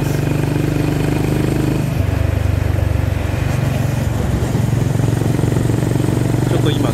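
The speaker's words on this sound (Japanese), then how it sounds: "少しエンジンを回しても排気音がいつまでも連続的にならないのが本当にこのバイクの排気系の" A Honda GB350S motorcycle engine and exhaust thump along at low revs close by, pulsing unevenly rather than smoothing into a continuous note, with a slight rev change early on.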